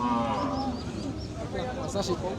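A cow moos at a busy cattle market before Qurbani, one long, loud, near bellow that falls away, with market chatter and bustle behind it.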